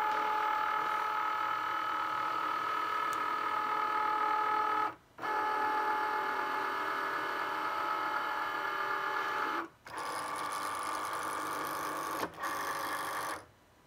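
A Cricut Maker cutting machine draws in its cutting mat, giving a steady, fairly loud whirring motor drone with tonal hum that stops briefly three times, then resumes; no talking.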